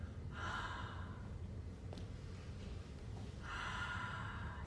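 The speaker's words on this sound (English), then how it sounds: "Ujjayi Breath. It's also known as Darth Vader breath." Slow yoga ujjayi breathing, two drawn-out breathy exhales through a constricted throat, soft and close with a quiet pause between them.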